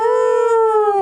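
A loud, close, sustained howl played as a sound effect in a Witcher tabletop role-playing game, one smooth drawn-out tone that sags slightly in pitch toward the end.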